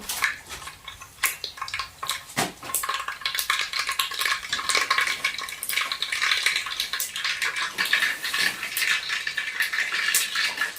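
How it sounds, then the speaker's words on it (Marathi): Mustard and cumin seeds spluttering in hot oil in a pan for a bajra amti curry, a close, busy stream of sharp crackles and pops that continues steadily with no talking. "मोहरी एक चमचा टाकली हे चांगलं फुटेपर्यंत हे भाजू द्यायचे जिरे आणि मोहरी"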